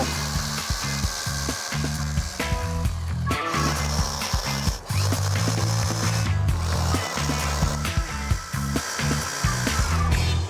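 Power drill boring a series of holes, a steady whirring motor broken by short pauses and restarts, close and continuous with no talk over it.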